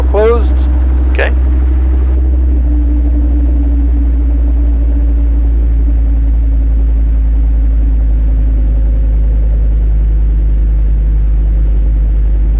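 A Robinson R22 helicopter's engine winds down after the throttle is rolled closed, leaving a loud, steady low rumble and hum heard close up in the cockpit.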